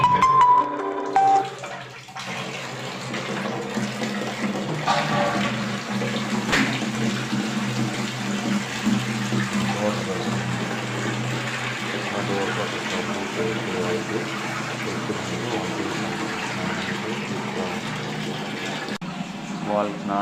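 Hot water pours steadily for a bath in a continuous close rush after a brief louder start, with a voice faintly in the background.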